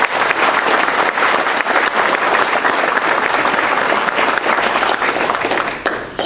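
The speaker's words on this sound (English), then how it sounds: "So give them one more round of applause if you will." A sustained round of audience applause at a high school sports awards event honoring outstanding players, steady and loud clapping that fades near the end.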